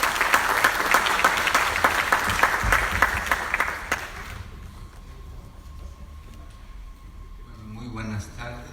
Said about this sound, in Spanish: para quien pedimos un cálido aplauso.